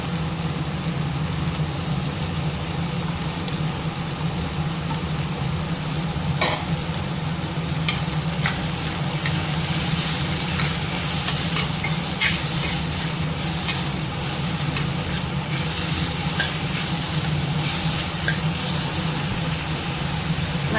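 Tomato, carrot and beans fry in a pan at breakfast cooking, a continuous loud sizzle with scattered scraping clicks from stirring throughout.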